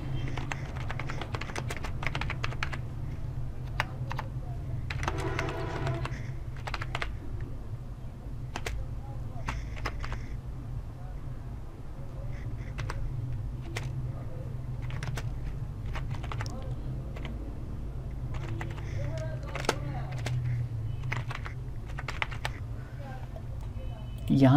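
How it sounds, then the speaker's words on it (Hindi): Typing on a computer keyboard while entering a home address into an online account sign-up form, with steady clicks of keys under continuous talk throughout. "इससे नीचे आपने अपना होम एड्रेस यहाँ पे टाइप करना है।"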